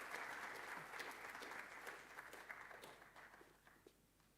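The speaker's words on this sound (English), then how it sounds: "Please join me in giving him a round of applause." Audience applause at an institute colloquium for a physics professor, a dense steady clapping from a room full of people that fades slightly toward the end, with no talk over it.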